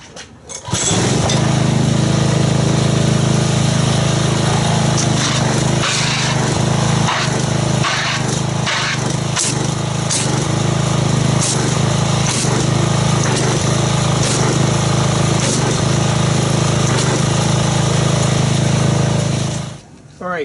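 Pressure washer jet churning car wash soap in a bucket, a loud continuous motor drone with hissing, splashing spray that starts abruptly and stops just before the end.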